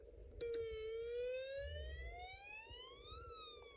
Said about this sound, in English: alarm and LED will stay on for a little bit after releasing the press switch